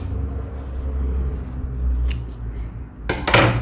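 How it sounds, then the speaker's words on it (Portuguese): Scissors snip the end of a fabric bias strip, a few crisp close cuts standing out near the end over a low background hum, with no talking. "Vou cortar também a ponta dela."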